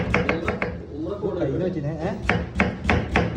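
A knife cuts through cabbage on a board in quick bursts of crisp chopping taps at the start and end, with a person talking in between.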